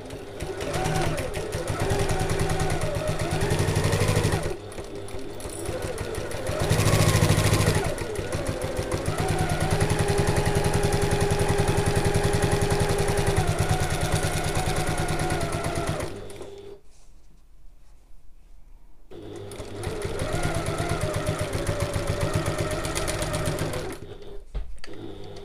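A sewing machine runs at construction stitch length, stitching a 1 cm seam on a large fabric bag in steady sustained bursts, with a pause around the middle and a quieter gap near the end, close and loud.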